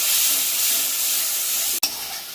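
Spice paste with garlic paste, turmeric powder and a splash of water frying in a pan for a Bengali pangas fish curry, giving a steady close sizzling hiss that cuts out briefly near the end before resuming.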